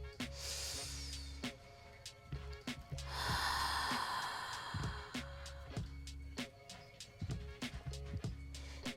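A deep, audible breath during a vinyasa yoga sequence, one drawn-out rush of air in the middle over soft rhythmic background music.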